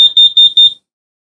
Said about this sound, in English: there's the beeping noise that the carbon monoxide has reached a lethal level